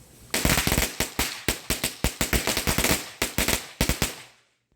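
Black Cat firecrackers go off in a rapid, irregular string of loud, sharp bangs for about four seconds, each crack close and punchy before the burst ends in quiet.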